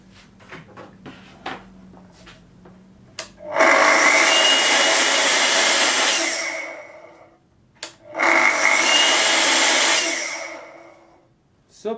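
A new Festool power tool is switched on for its first start-up, giving two loud, steady whirring bursts of a few seconds each, separated by a short pause and preceded by quiet clicks and handling noises.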